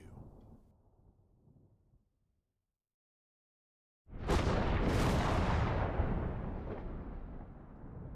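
A loud thunderclap as lightning strikes in a dramatic storm scene, bursting suddenly after a brief silence, then rumbling on heavily and at length.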